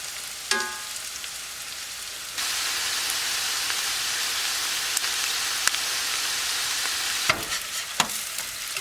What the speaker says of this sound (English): When you're browning them at the end here, you want to leave no cover on.